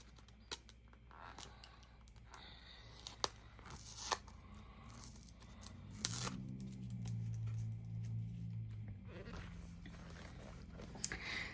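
Paper crinkles and tears in small, close bursts as a sticker is peeled off a 6x6 Simple Stories Simple Vintage Flower Shop paper pad, with handling rustles and a few sharp snaps between them.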